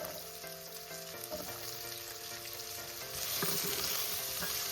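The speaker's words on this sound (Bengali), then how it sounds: "এবার আমি আলুটাকে একদম লাল লাল করে ভেজে তুলে নেব" Potato pieces fry steadily in hot oil with a dense, even sizzle and crackle, occasional stirring scrapes breaking through, growing slightly louder toward the end with no talking.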